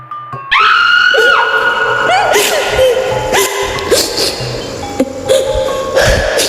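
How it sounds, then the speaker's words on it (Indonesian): Several voices cry out and wail in loud, overlapping bursts, with high sobbing tones rising and falling throughout. "Jeritan tangisan terdengar di mana-mana."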